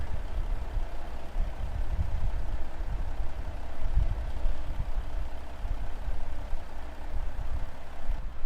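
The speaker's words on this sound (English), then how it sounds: "This is BC Bueller's truck" A truck engine idles in Farming Simulator 22, a constant low, rumbling drone that stays steady and fairly loud for the whole stretch, with no one talking.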